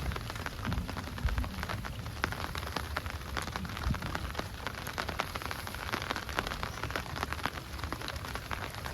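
Steady heavy rain pours onto water and surfaces during a storm in the Sundarbans mangrove forest while fishermen cast hand nets, a dense continuous hiss with scattered louder drops and no voices.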